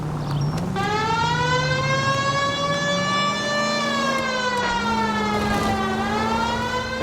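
Police car siren in the video game L.A. Noire: a loud, close wail that rises, holds and then slowly bends in pitch, running continuously for several seconds.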